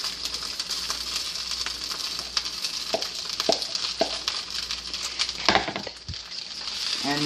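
Shrimp sizzle in a pan with butter and soy sauce for shrimp fried rice: a steady bright frying hiss broken by sharp clacks of stirring and scraping.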